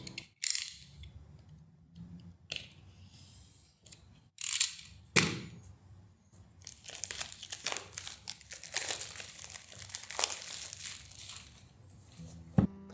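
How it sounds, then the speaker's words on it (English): Plastic wrap is cut and peeled off a black and yellow POCO X4 Pro phone box, giving close crinkling, sharp snips and tearing rustles in uneven bursts that grow busier toward the end. "Let's go ahead, cut through the plastic and remove it."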